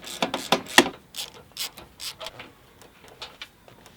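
Ratchet with a Torx socket on an extension loosening car fender bolts, a quick close run of sharp clicking pawl strokes followed by slower, fainter clicks tapering off.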